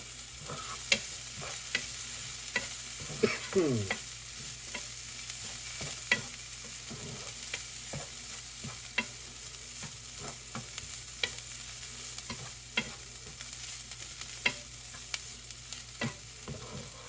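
Finely diced bacon seasoned with cayenne pepper frying in a pan, a steady close sizzle with a scatter of sharp spatter pops and occasional stirring scrapes throughout.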